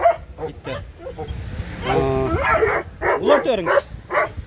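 Dogs bark and yip at an outdoor dog market selling breeds such as shepherds, alabais, pit bulls and spaniels, with sharp close barks and whines mixed in among people talking nearby.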